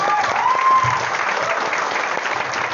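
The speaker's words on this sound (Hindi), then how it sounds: "ताली बजाओ यार, ताली बजा लो" A seminar audience at a Vestige success talk claps together in a brief, dense burst of steady applause, with no talk over it.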